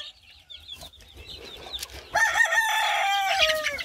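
A rooster crows loudly and close among a breeder's fowl, the full cock-a-doodle-doo call coming in after quieter clucks and bird chatter, with no talk over it.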